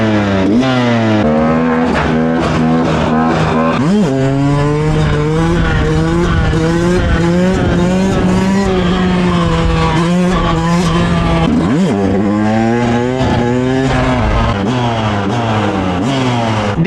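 A car accelerating hard in fourth gear on Naples streets, engine note climbing and sliding in pitch with tyre squeal overtones, loud and continuous throughout with a brief dip before rising again.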